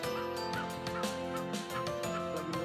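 Ornamental turkeys at a breeding farm gobble repeatedly in loud, overlapping bursts, a busy flock calling close by with several birds answering one another throughout.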